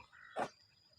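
A single short croak from a frog at a sugarcane field hunting spot, one quick throaty burst in a quiet night backdrop.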